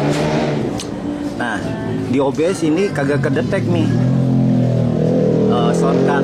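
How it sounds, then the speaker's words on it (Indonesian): A motorcycle engine being tuned drones and revs steadily in the background while someone talks close up over it. "Ini suara agak berisik karena di sono ada yang lagi nyeting motor"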